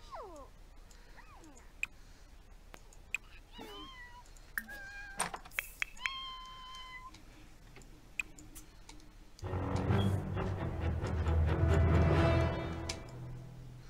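In the video game The Sims 4, a cat gives several short, close meows between sparse ticking clicks. A louder, busier wash of game sound then fills the final few seconds.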